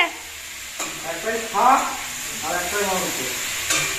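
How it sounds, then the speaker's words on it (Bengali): Mutton cooking in a pan at home, a close, steady sizzle and hiss of frying with a few stirring scrapes, while people talk over it. "বাবা দু হাতে করে রান্না করছে"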